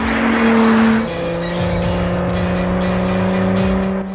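Honda NSX race car with a 3.5-litre twin-turbo engine, nine-speed gearbox and electric motors, loud and close, holding steady engine tones with a gear change and sustained high-revving drive.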